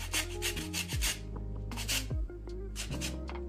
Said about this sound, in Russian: теперь берем лимон и сюда натираем цедру с этого лимона